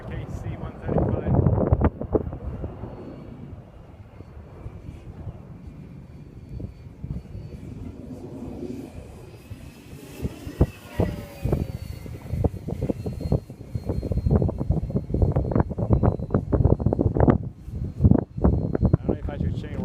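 A KC-135 aircraft flying overhead on a windy day: a broad engine roar rises and falls under gusty wind noise, while people talk over it.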